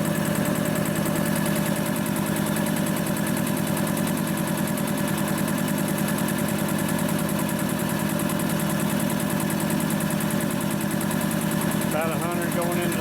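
An industrial two-stage air compressor runs after a rebuild, a loud, dense, steady mechanical drone with fast rhythmic pulsing and buzzing overtones throughout, near and continuous, with a brief squeal near the end and someone speaking over it.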